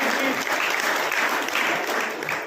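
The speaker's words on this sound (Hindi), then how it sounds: "तालियों के साथ उनको बधाई देनी चाहिए" Guests at a retirement party for a university office worker break into a short burst of lively clapping that swells and fades in waves over a couple of seconds.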